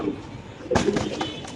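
Pigeons at a Dhaka farm coo softly and briefly in a short burst, mixed with a nearby voice and background noise.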